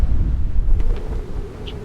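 Strong wind in Iceland buffets a microphone with a heavy, uneven low rumble that gusts and then eases slightly.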